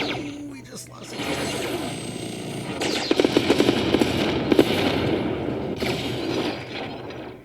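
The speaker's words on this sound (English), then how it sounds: "That explosion on the carrier was a little underwhelming." Space combat in the strategy game Endless Space 2 with a carrier exploding, a dense rumbling crackle of blasts and rattling mechanical bursts that swell and fade over several seconds, with a voice talking over parts of it.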